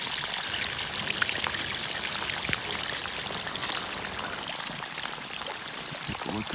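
Rainwater runoff pouring as a thick stream onto soil, a steady close trickling and splashing wash with scattered drips, moderately quiet and without talk.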